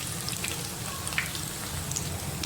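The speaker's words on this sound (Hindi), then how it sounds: "जी तो ये कबाब फ्राई हो चुके हैं" Seekh kebabs frying in oil give a faint, steady hiss of sizzling with a few soft pops and crackles. No one speaks.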